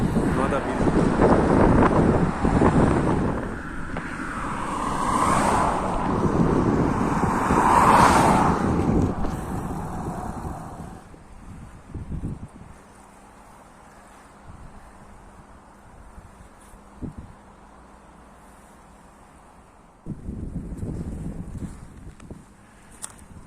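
Gusty wind buffets the microphone with heavy low rumbling for about ten seconds, then eases, while a person speaks intermittently outdoors.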